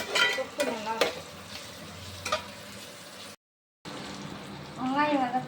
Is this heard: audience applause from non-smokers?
no